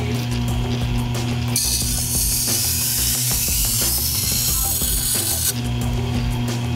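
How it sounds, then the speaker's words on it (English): A knife is sharpened on a water-cooled sharpening wheel, a steady mechanical whirring grind with a brighter hiss of steel against stone that comes and goes as the blade passes, close up and without talk. "so I got a water cooled wheel, and all I'm doing is I made sure that this edge is nice and flat"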